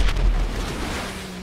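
A blast in GTA V Online during a missile attack, a deep booming burst at the start that rolls into a sustained low rumble and fades slowly, with no talk over it.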